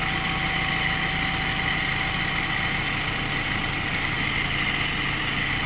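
An engine idles steadily after starting following spark plug work, a constant close hum with no talk over it.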